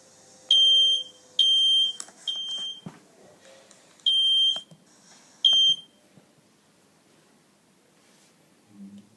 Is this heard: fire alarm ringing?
yes